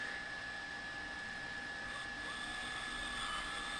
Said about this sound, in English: we just load that into our drill